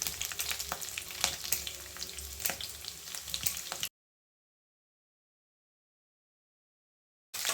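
A tempering of curry leaves, chana dal, garlic and dried red chillies sizzles in hot oil with close, crackling pops and stirring for about four seconds, then falls silent before the sizzle briefly returns.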